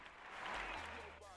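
Brief, faint applause rises from an audience at a Kuumba celebration, a soft wash of clapping lasting about a second.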